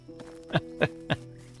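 Three evenly spaced horse hoof clops in the video game Medieval Dynasty ring out in a steady rhythm over a quiet background hum, sounding like a horse stepping nearby.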